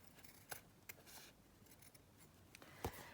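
Scissors cutting the end off a strip of paper while making a Christmas journal page, a few faint, close snips spaced irregularly, with the sharpest cut near the end.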